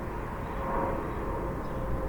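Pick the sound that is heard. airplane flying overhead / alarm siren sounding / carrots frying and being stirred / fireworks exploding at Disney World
airplane flying overhead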